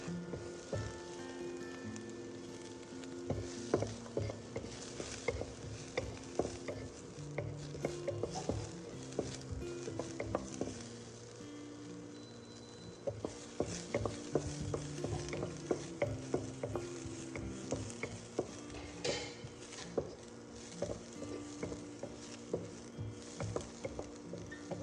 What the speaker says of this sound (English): So now I'm going to fry my onion until it becomes brown.